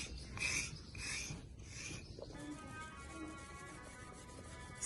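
A sharp metal surface rasps across molded clay pottery in close, repeated scraping strokes, gritty and rhythmic at first, then settling into a steadier rubbing.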